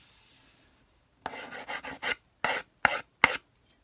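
A wood rasp files a wooden axe handle in a rapid series of short, scraping strokes, each one crisp and close, separated by brief pauses after a quiet start.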